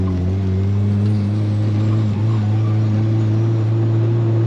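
Adam LZ's Nissan 180SX drift car, its engine droning loud and steady under throttle in third gear, a strong continuous tone with a brief dip midway.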